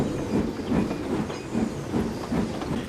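A steam train running on rails, a steady rumble with a rhythmic clickety-clack of wheels and a faint hiss, moderately loud and alone with no voices.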